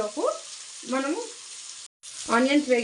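Chopped onions frying in a pan for a dhaba-style chicken curry, a steady broadband sizzle running throughout beneath a voice speaking in short phrases, with a brief dropout partway through.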